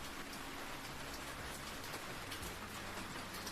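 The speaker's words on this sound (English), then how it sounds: "It is raining so heavily." Heavy rain pours steadily outdoors, a dense, constant hiss of drops striking surfaces at close range, with no pauses or other sounds breaking through.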